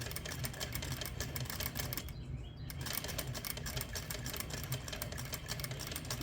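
Sewing machine running steadily as it stitches a lace applique onto fabric, a fast continuous needle chatter with a brief pause midway before resuming at full pace.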